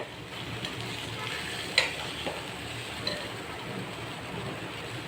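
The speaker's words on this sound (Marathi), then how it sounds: "असे आता मी पलटी करून घेते हे टॅमॅटो" Tomatoes fried with garlic, turned over in a pan for a tangy tomato dish: a steady soft sizzle across the whole stretch, with one brief clink of a utensil partway through.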